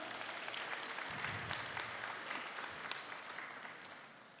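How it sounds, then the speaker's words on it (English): Audience at a mathematics teacher and olympiad awards ceremony applauds steadily, a dense sustained patter of clapping filling the room from start to finish. "Shall we give them another round of applause?"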